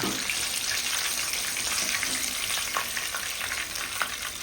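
Katla fish frying in hot oil, a loud, steady, crackling sizzle that holds evenly throughout with faint scattered pops and no talking.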